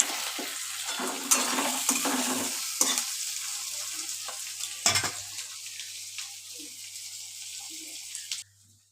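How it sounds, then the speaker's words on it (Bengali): Potatoes and onions frying together in a pan for a rohu fish curry, a steady sizzle broken by a few sharp stirring scrapes and clacks, close and fairly loud, ending abruptly. "ভাজা করে নেব আলুগুলো পেঁয়াজের সঙ্গে একসঙ্গে।"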